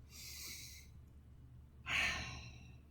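A woman slowly breathes in and out during a relaxation exercise, a long airy inhale followed after a brief pause by a stronger, louder exhale like a sigh, close to the listener with no talking.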